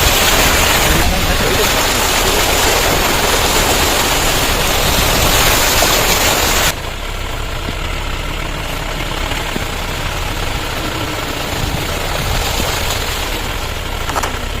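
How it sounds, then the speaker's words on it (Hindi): Floodwater flows across a village road in a flood-hit sugarcane farming area. It makes a loud, continuous broadband roar that drops noticeably in level about halfway through and then stays steady. "और देखिए रोड पे पूरा पानी चल रहा है।"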